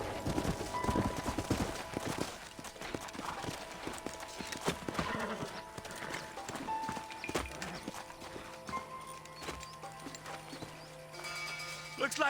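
Horses in the Western video game Red Dead Redemption clip-clopping at a trot, with irregular hoof beats and occasional whinnies, moderately close, under game dialogue and scattered sharp effects.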